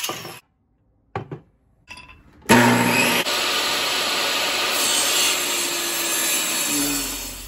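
A saw cutting through a piece of IPE hardwood for a bamboo-backed longbow, starting with a few short rasping strokes and then settling into a loud, continuous, close grinding cut that runs to the end without talk.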